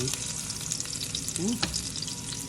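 Garlic sizzles in hot oil for a beef stir fry, a steady crackling fry with one brief scraping stir partway through, close and fairly loud, no talking.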